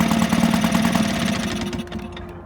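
A vintage outboard motor idles at its lowest setting with an uneven, galloping rhythm of close, steady pulsing that holds without stalling and softens slightly toward the end.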